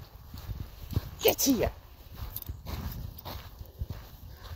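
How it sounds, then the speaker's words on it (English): A horse walks close ahead on a path, its hooves clip-clopping in an uneven rhythm while someone shouts a command and a dog is nearby. "The reason why is because of the horse in front of me."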